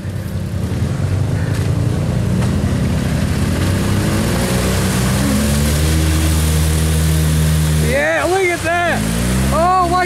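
A Polaris RZR fitted with tractor tires churns through deep mud, its engine droning loudly and steadily before revving into a rising, wavering whine near the end, while people talk and shout over it.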